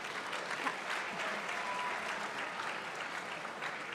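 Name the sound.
audience applause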